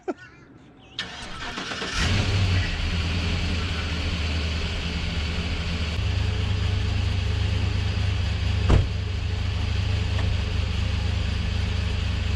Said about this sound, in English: I'm probably gonna start it up just to get the fluid circulated